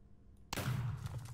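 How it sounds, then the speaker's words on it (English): A single sharp gunshot from a pirate-style gun in modded Minecraft, loud and close, bursting out of near silence and trailing off in a short rumbling decay. "Ready? Listen for the shot."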